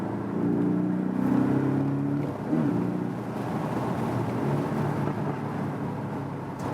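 A Porsche 718 Boxster S with its mid-mounted engine hums steadily while driving, a continuous loud engine drone with shifting harmonic tones, a brief dip near the middle, and no talking.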